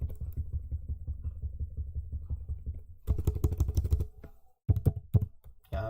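C# code being typed on a computer keyboard: close, crisp key clicks come in a rapid rhythmic run, then in looser bursts separated by brief pauses.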